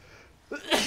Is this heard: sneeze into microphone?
yes